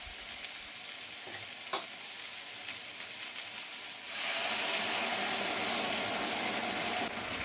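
Sauce poured into a hot pan of chicken and cashew nuts for a Chinese stir-fry: a quiet background hiss suddenly swells into a steady, loud sizzle that carries on evenly to the end.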